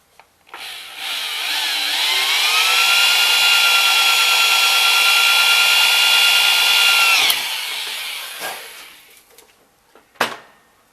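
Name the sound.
drilling a hole in metal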